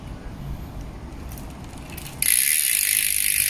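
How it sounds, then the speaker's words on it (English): A freshly wax-lubricated bicycle chain spun by hand, a steady whirring ratchet-like clicking of freewheel and chain that turns brighter and louder partway through, close up with no talking. "give it a good spin to loosen up the chain"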